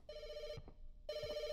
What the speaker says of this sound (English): I'm gonna go answer the phone. Somebody's gonna call me.